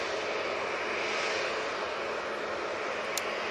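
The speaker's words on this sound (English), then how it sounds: "A320neo going back to Geneva" An Airbus A320neo airliner departing Manchester Airport roars steadily as a broad, loud jet-engine rush, constant and unbroken across the moment with no talk.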